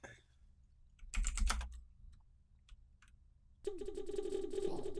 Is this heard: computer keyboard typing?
yes